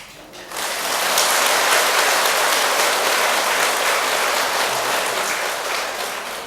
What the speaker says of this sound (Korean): 박수 한번 더 치게 생겼네요.